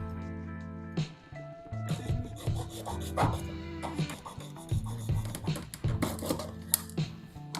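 A resin model kit part is cut and worked by hand, producing close, repeated rasping and scraping strokes in an uneven rhythm with ringing tonal overtones.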